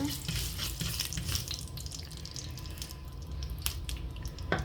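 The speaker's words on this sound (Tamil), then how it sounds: "எண்ணெய் விட்டுட்டேன் கடுகு பெருஞ்சீரகம் கொஞ்சம் போட்டு தாளிக்கிறது" Mustard and fennel seeds crackle and spit in hot oil with quick, irregular popping over a soft sizzling hiss, fairly quiet and close, no voices.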